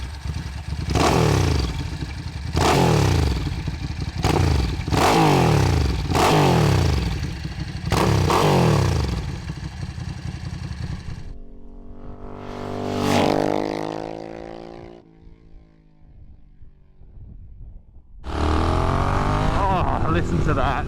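A Ducati Paul Smart 1000LE with a big V-twin engine is revved hard in a rhythmic series of loud, close blips, then settles to a rough, lumpy idle before one more loud surge of throttle.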